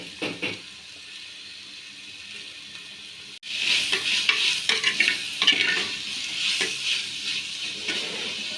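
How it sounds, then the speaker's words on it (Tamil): Tomatoes sauté in a pot for mutton biryani, starting as a quieter sizzle, then after a sharp knock turning into louder frying with repeated spoon scrapes and stirring, up close. "தக்காளி நல்லா வதங்கி வருது"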